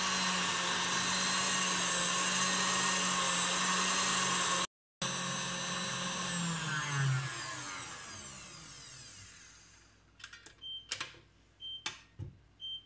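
An electric mixer beats eggs and sugar for sponge cake batter, a loud steady motor whir with a brief cutout, then winding down, followed by a few sharp knocks and clinks.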